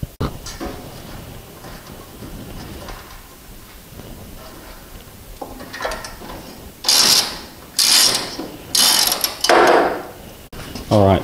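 A bolt is screwed into the earthing point for the battery on a Moke, and the ratcheting turns come in several loud, close bursts late in the clip, after a quieter stretch of faint handling.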